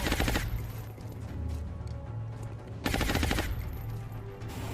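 Gunfire in XCOM: Long War, two loud rapid automatic bursts separated by a couple of seconds, close and harsh over a low rumbling background.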